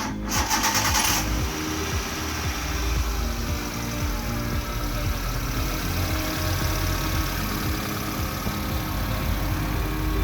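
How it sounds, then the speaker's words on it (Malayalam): Hyundai Santro car engine idling right after an engine oil change, a steady close rumble with an even mechanical ticking rhythm throughout, following a brief starter crank at the beginning. "ഇനി നമുക്ക് വാഹനം ഒന്ന് സ്റ്റാർട്ട് ചെയ്ത് നോക്കാം"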